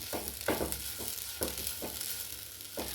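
Mysore cheera greens being stirred as they fry in an open pan, with repeated scraping stirs over a steady soft sizzle, close and fairly quiet.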